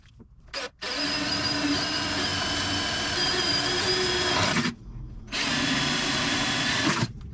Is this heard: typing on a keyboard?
no